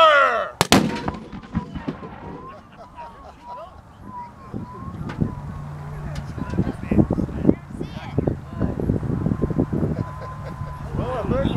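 A mortar fires outdoors, opening with one loud, sharp blast followed by wind noise. Several voices talk and shout through the rest of the clip.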